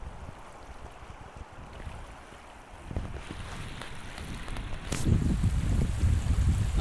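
Water pours out of a dam filled to the brim after days of heavy rain, a steady rushing roar mixed with wind buffeting the microphone, growing noticeably louder and fuller about two-thirds of the way through.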